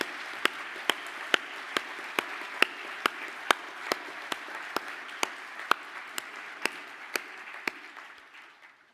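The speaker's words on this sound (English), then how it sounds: "take a well-deserved round of applause" Applause for graduates at a ceremony is a sustained wash of clapping from a large crowd, with sharp single claps standing out at a steady beat throughout, then slowly fading.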